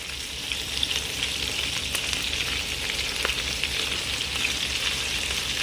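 Chicken spinach burgers fry in a pan and are flipped, a steady close sizzle with a few small knocks and scrapes from turning them and no speech.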